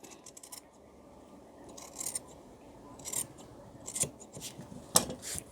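Tailoring scissors snip through shirt fabric in several short crisp bursts, close up and growing louder toward the end, with a faint rasp of cloth between cuts and no speech.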